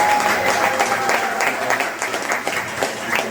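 A theme-park studio backlot tour crowd applauds for a volunteer named Larry, a steady, dense wash of clapping from many hands that stays loud throughout with no one speaking over it.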